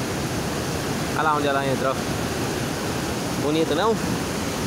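Waterfall on a fish-rich river, the second drop of two, a constant broadband roar of falling water with two brief spoken phrases over it.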